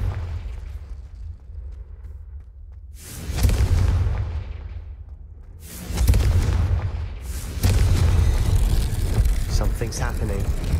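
Repeated Confringo fire-spell explosions in Hogwarts Legacy on PS5, each a heavy booming burst that rolls into a sustained roar, loud and close against a low rumbling background.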